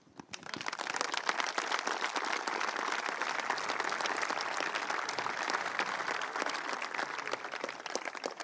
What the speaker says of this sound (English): So please, first of all, a round of applause to your own future.